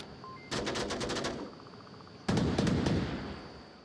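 Two long bursts of rapid automatic gunfire in the VR shooter Onward during a competitive match, loud and close with a short pause between volleys and no talking.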